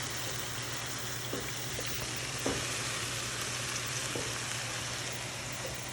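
Food fries in oil and gets stirred until golden brown, a soft, steady sizzle with a few faint utensil knocks, fairly quiet and without voices.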